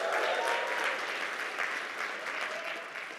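An audience applauds at a military logistics conference keynote, a dense, even burst of clapping that fades slightly toward the end, with no voices over it.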